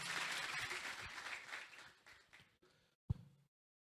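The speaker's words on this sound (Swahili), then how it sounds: "Makofi kwa county leadership." An audience at a county event in Kisii applauds, a fairly faint wash of clapping that tapers off over a few seconds and ends with a single sharp knock before silence.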